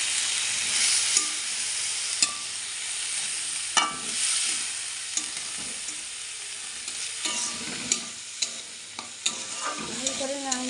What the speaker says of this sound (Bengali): গাজরগুলো দিয়ে দিলাম ভাজির কড়াইতে